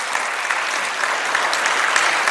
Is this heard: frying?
no